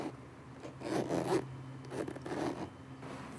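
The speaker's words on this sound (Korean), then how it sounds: "이 자크가 두 개 들어가는 거는 지퍼 자체가 틀려요" A zipper on a luxury bag under repair is pulled back and forth in several close, scratchy rasping strokes of uneven speed, with no talk over them.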